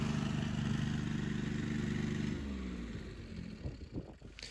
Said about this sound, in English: This little red tractor here is called an agromechanica. It's an Alpine all-terrain tractor